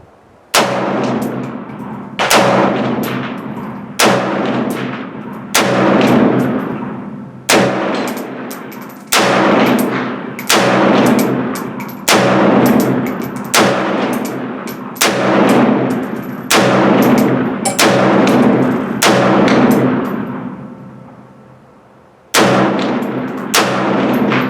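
Bear Creek Arsenal AR-47 rifle firing Wolf ammo through two 15-round magazines: loud, evenly spaced single shots about every second and a half, each sharp crack ringing out, with a brief pause near the end before firing resumes.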